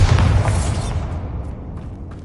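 A Bombarda spell blast in Hogwarts Legacy hits as a heavy, booming explosion with a deep low rumble that fades over about two seconds.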